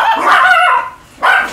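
A dog gives two close, loud barks with a whiny, yelping edge, separated by a brief pause.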